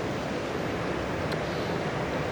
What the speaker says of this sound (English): the water is coming through the torrent